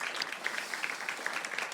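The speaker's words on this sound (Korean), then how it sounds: "우리 박수로 서로를 격려하도록 하겠습니다" A church congregation applauding together during a Wednesday evening worship service, a steady dense patter of many hands clapping at moderate distance, filling the room without any voices on top.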